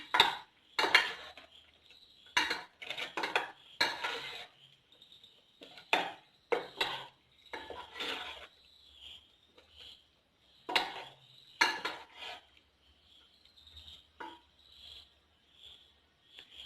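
Chicken pieces for Kerala-style spicy popcorn chicken are mixed in a bowl, producing close, irregular bursts of clinking and scraping against the bowl with short pauses between them and a faint hum in the quiet gaps.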